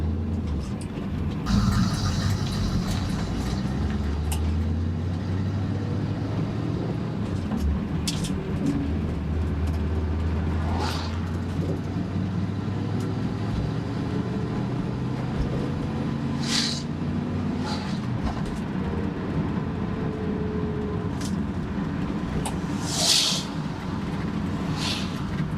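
A 1967 Chevrolet Camaro with a 327 V8 and four-speed manual gearbox drives along, its engine droning steadily and rising in pitch through the gears under constant road and wind noise, with no talking.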